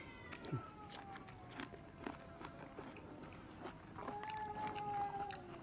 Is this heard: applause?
no